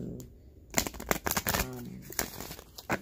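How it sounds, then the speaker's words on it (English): A deck of tarot cards gets shuffled up close in quick, uneven bursts of papery riffling and slapping over about two seconds, with a faint voice in the background. "I'm just going to give the cards a little shuffle"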